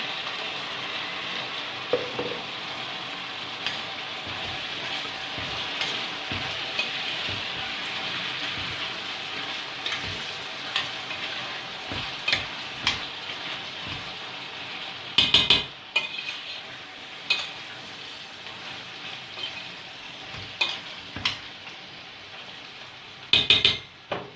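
Steady, hissing sizzle of mushrooms frying in a pan, with occasional clicks and scrapes of a utensil stirring, close and continuous.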